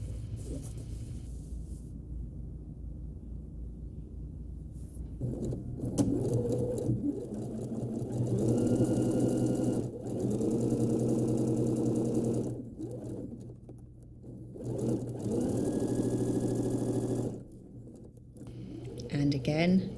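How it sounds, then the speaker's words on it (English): A sewing machine topstitches close to the fabric edge of girls' shorts, running in several bursts with short pauses between stitching runs, over a low steady hum. "I'm going to top stitch this down as well, close to the edge, just to hold it in place"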